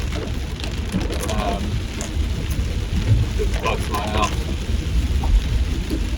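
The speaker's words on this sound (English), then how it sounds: "it's really raining" Heavy rain pours steadily outdoors near a house, a dense constant hiss with scattered drops, while someone talks over it.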